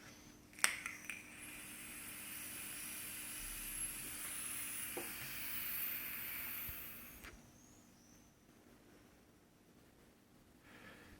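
Vapor drawn through a Joyetech eVic VT electronic cigarette hisses off the heated coil as a broad, steady rush lasting several seconds, with a sharp click near the start, then fades into quiet room noise.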